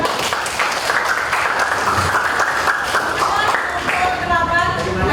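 A classroom group applauding after a presentation, a steady crowd of clapping hands that continues throughout, with voices mixed in beneath.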